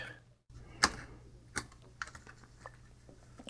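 A side cutter snips a wire lead during a battery contact repair, producing a few sharp, separate clicks spaced about a second apart against a quiet background.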